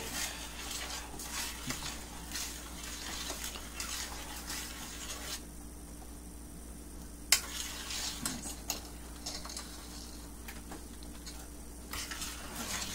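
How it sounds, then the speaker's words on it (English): A no-bake cookie mixture boils in a pot on the stove at a rolling boil while it is stirred. The bubbling is faint and steady, with soft scraping and one sharp clink partway through. "And just let it boil away."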